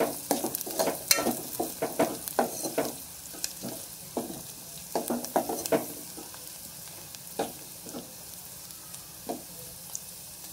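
Onion and turmeric fry in oil, a soft continuous sizzle broken by repeated sharp clinks and scrapes of a spoon stirring the pan, close and quiet with no voices.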